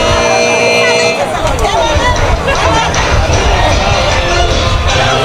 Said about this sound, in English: Crowd's getting excited for the next entrant.